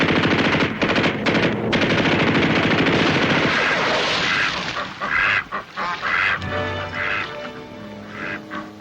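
Close, loud bursts of rapid gunfire and machine-gun fire fill the first seconds of a World War II television combat scene, then thin into scattered shots and shouting voices.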